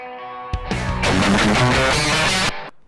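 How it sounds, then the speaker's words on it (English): Electric guitar chords with a swirling, sweeping phaser effect, loud and sustained for a couple of seconds before cutting off. "Phaser solo."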